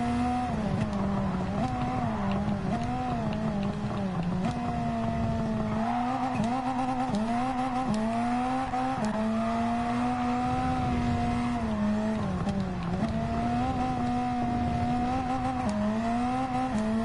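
Touring race cars lapping Lago Maggiore East End Reverse in Gran Turismo 7, including a Roadster Touring car and an Atenza with an Alfa Romeo engine swap, their engines droning loud and steady with rising and falling revs throughout.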